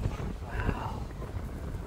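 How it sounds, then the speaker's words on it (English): Wind buffets the microphone outdoors with a steady low rumble throughout, briefly overlapped by a faint voice. "It's a little windy, so if you can't hear, I am sorry."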